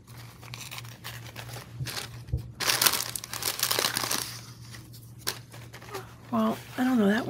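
Tissue paper crinkling and rustling as it is handled for a layered belly band tag craft, with irregular bursts of rustle and a steady low hum underneath, followed by a voice speaking near the end.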